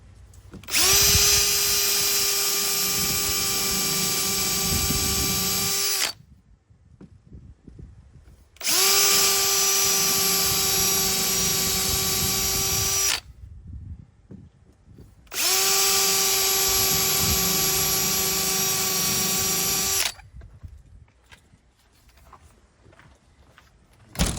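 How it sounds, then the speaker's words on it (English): A power drill with a 5/16 bit whines loudly in three long bursts of about five seconds each, drilling holes in a screen storm door, separated by pauses filled with faint handling noises. "Now with a 5/16 bit, we're gonna drill from each side."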